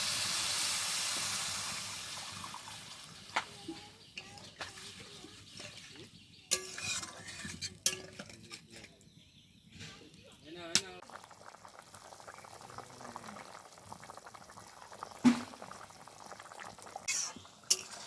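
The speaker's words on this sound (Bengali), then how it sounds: "এবার দিয়ে দেবো পরিমাণ মতো জল" Water poured onto fried spice paste for a Bengali raw banana kofta curry hisses loudly at first, then settles into a faint bubbling simmer with occasional stirring clinks, under quiet talk.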